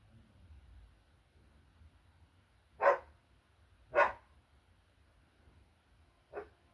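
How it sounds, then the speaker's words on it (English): A dog barks three times indoors, with two strong, sharp barks about a second apart followed by a softer third, each standing alone against a quiet background hum. "Hopefully he doesn't start barking again."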